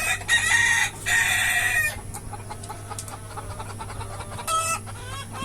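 Native desi chickens on a poultry farm give loud, close clucks and squawks in two long bursts, followed by quieter scattered clucking and a low steady hum in the background.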